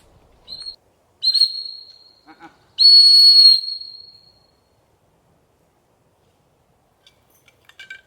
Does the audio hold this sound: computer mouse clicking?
no